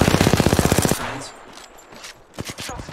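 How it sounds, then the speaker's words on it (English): Rapid automatic gunfire in the video game Apex Legends, a loud burst of evenly spaced shots lasting about a second, then quieter scattered game sounds and a few more sharp shots near the end. "Shots fired at me. Getting shot at."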